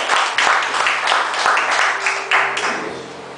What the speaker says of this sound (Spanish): Un aplauso, Señor